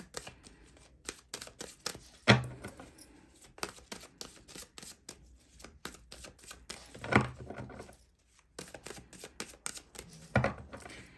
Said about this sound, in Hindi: गाइज कर लिए सफलिंग, निकालते हैं कार्ड्स